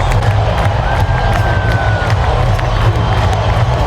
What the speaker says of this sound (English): we're just sitting here clapping